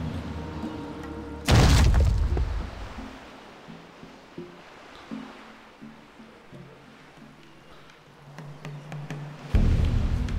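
Two heavy booming video game cannon blasts, one early and one at the end, with a rumbling low murmur of water and thuds between them.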